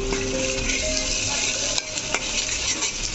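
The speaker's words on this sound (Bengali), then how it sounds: "এখন আমি মিশ্রণটি লাড়া দিয়ে দিব।" A spiced red lentil mixture with chili powder and salt is stirred in a pan, giving a steady close sizzle with light scraping and a couple of sharp utensil knocks.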